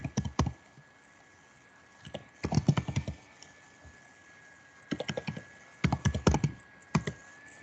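A computer keyboard typed in short bursts of quick clicks separated by pauses, close and clear over a faint steady hum, as a terminal command is entered.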